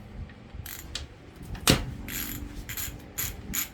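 A ratchet with a 6mm hex socket loosens engine bracket bolts on a 6.0 Power Stroke diesel, giving close clicking pawl bursts and one sharp crack as a bolt breaks free.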